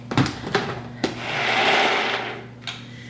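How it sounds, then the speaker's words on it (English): A kitchen blender whirring as it purées a vegan cashew sauce, with a few sharp clicks and knocks before the motor swells into a steady, fairly loud whine that eases off near the end. "So we are going to blend this up real quick."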